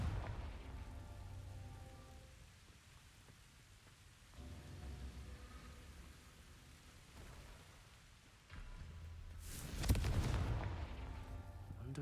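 A Confringo spell blast in Hogwarts Legacy erupts loudly near the end, a booming burst over a steady rain-like wash and low rumbling ambience, with no talking.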